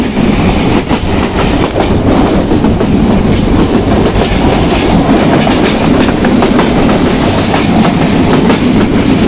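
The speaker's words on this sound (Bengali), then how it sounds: "সিলেট থেকে ছেড়ে আসা পার্বত্য এক্সপ্রেস ট্রেনটি এই মুহূর্তে 45 মিনিট পরে প্রবেশ করে ছেড়ে যাচ্ছে রেলওয়ে স্টেশন" The Parbatya Express passenger train from Sylhet rolls through hilly country with a loud, continuous rumble and a steady clickety-clack of wheels over rail joints.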